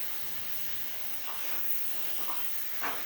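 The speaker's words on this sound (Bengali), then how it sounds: "এবার আমি এটা লো ফ্লেমে একটুখানি কষিয়ে নিচ্ছি।" Katla fish curry masala sizzles in a pan over a low flame, a faint, steady hiss with a few soft pops and no voices.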